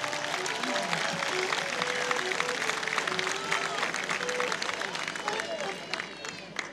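Applause from a crowd at a provincial cueca championship in Colchagua, honoring a couple from San Fernando; steady clapping mixed with crowd hubbub and bursts of music, fairly loud and continuous.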